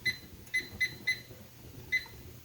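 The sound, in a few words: kitchen timer going off after canning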